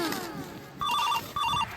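A telephone rings with two short electronic trilling bursts, clear and close, in a rural farm household.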